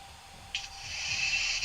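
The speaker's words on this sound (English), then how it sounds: "Is that your airbrush?" An airbrush used for painting Warhammer 40,000 miniatures gives a soft, steady hiss that starts suddenly partway through and continues to the end, fairly faint and alone.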